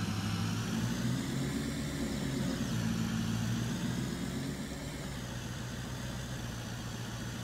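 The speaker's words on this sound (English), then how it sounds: "So let's go ahead and hop into our truck. I love this thing. Oh, it sounds so amazing." Pickup truck engine idling in the Farming Simulator 22 video game, a steady low rumbling drone that holds at an even level throughout with no talk over it.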